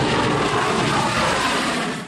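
An Indian Air Force MiG-21 Bison fighter jet flies close by with a loud, steady roar of engine noise that fades slightly at the end.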